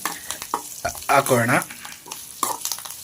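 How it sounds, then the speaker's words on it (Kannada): A tempering for raw mango chutney sizzles and crackles in hot oil in a pan, with bursts of frying and stirring under a woman's brief speech. "ಈಗ ಒಗ್ಗರಣೆನ ಇದಕ್ಕೂ ಹಾಕೋತಾ ಇದ್ದೀವಿ"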